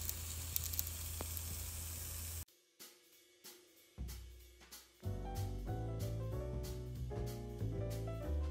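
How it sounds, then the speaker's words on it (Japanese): Panini bread grilling in a frying pan gives a steady hiss and sizzle for a couple of seconds, then the sound drops away and music takes over. "仕上げに蓋を外して片面1分ずつ焼くと香ばしく仕上がります"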